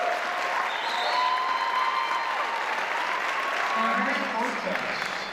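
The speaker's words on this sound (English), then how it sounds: "Would you give them another round of applause?" Audience applause at the 2018 Mrs. Colorado pageant, a sustained, even roar of many hands clapping across the hall, with a voice briefly audible over the crowd.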